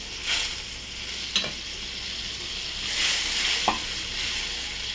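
Fish curry broth with potato boiling in a pan gives off a steady hiss and simmer, with a few soft pops and bubbles breaking through. No one talks over it.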